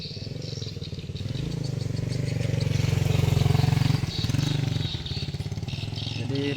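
Motorcycle engine droning steadily on a potholed village road between hamlets in Mangkoso, rising in loudness midway with rattling over the bumps, heard close throughout.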